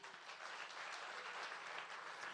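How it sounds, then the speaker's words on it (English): Audience applause at a fashion show and charity auction, a steady wash of clapping hands that holds evenly for a couple of seconds without a break. "give them a round of applause"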